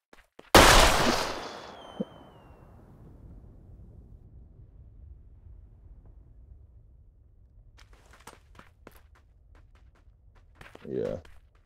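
A single loud gunshot from PUBG New State bursts out near the start and trails into a long reverb tail, followed by scattered faint clicks and game sounds with a brief muffled voice near the end.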